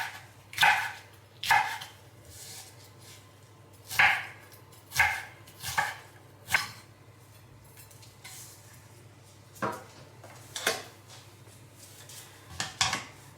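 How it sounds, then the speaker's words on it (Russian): A knife dices a peeled bell pepper on a cutting board, a dozen or so sharp, close chops landing in an uneven rhythm with short pauses between them. "Нарезаю кубиком"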